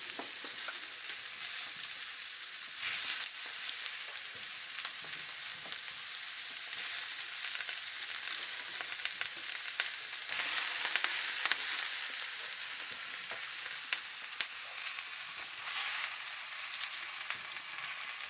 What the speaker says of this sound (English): we're going to go ahead and add our mushrooms